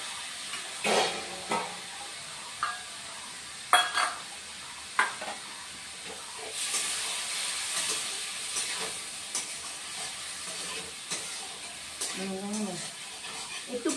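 Fish curry and vegetables sizzle in a pan while a utensil scrapes and knocks against it in sporadic strokes, with a voice speaking briefly over the frying.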